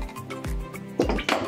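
A small saucepan is handled on a home kitchen counter while frying oil is readied for Creole salt cod fritters, giving several metallic clinks and clunks at close range, spread irregularly across the moment.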